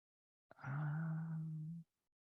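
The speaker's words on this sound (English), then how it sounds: "Can you hear my cat?" A single drawn-out, low meow from a cat close by, lasting just over a second, with silence around it.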